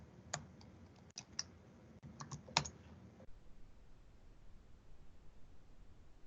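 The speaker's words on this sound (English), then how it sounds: "And I'm typing in a location." Fingers type on a computer keyboard in a short, quick burst of close, light key clicks, followed by quiet room tone.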